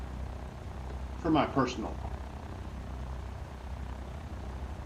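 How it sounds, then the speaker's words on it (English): A helicopter hovers in the X-Plane 11 video game, a low, steady rotor drone that continues throughout while a voice briefly speaks over it. "I want a closer view of the helicopter"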